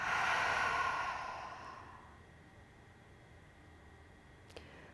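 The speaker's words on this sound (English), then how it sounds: "Big cleansing breath out through your mouth." Long, breathy exhale through the mouth during a yoga session, loud and close at first, then fading over about two seconds into quiet room tone.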